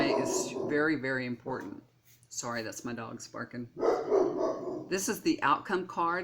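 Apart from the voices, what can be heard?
dog barking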